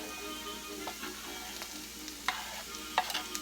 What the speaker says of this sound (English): I'm just going to stir fry everything around again.